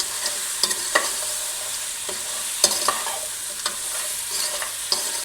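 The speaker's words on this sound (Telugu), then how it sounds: "ఇప్పుడు ఇందులోకి పీతలు వేసుకోవాలి పీతలు వేసుకుని ఇలా కలుపుకోవాలి" Crabs fried and stirred with tomato in a pan for a Telugu-style crab and chicken curry: a steady oily sizzle runs throughout, broken by repeated scrapes and knocks of a spoon against the pan, close and alone.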